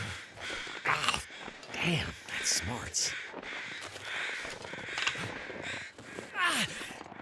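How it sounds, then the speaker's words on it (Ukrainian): Crows caw repeatedly in the snowy wilderness of The Long Dark, harsh calls scattered across the scene at moderate distance, with a person talking over them. "Тут ворони десь літають."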